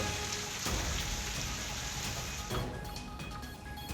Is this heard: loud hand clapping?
no